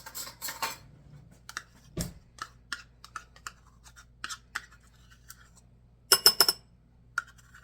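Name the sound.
spoon scooping Worcestershire sauce out of a bottle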